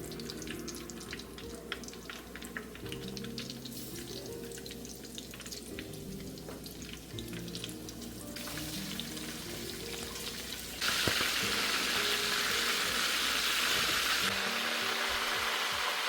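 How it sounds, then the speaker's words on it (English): Frog legs frying in hot oil in a home kitchen, a continuous close sizzle and bubbling that grows louder and brighter partway through, with no talking. "Once your chopstick is bubbling, throw in your frog legs."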